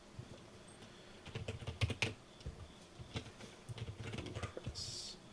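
Computer keyboard typing comes in quick irregular bursts of clicky keystrokes, close and fairly quiet, with a brief pause in the middle and no voices.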